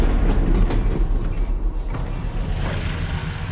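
A train grinding to a stop in the game Half-Life, loud creaking and metallic mechanical groaning with low rumble, rising and easing over a few seconds.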